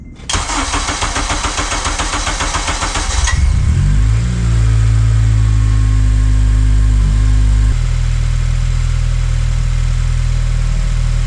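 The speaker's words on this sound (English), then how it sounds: "turning on the car and putting the coolant bleeder on and let it idle out" An Acura TSX fitted with an RRC Type R intake manifold and ZDX throttle body cranks and catches close up, then settles into a loud, steady idle that drops to a lower, even hum partway through.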